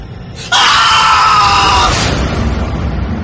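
A single loud, sustained scream of fright lasting about a second and a half, cutting off into a noisy room tone.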